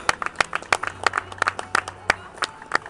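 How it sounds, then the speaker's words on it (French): A small group claps steadily at an equestrian competition prize-giving, with uneven sharp hand claps close by and no cheering. "On applaudit très fort Margot Laville."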